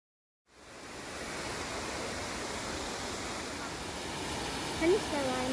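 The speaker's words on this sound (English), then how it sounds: "Waterfalls in Germany." Triberg waterfall in Germany's Black Forest roars as a steady, dense wash of falling water that starts abruptly and continues without a break, with a brief voice cutting in near the end.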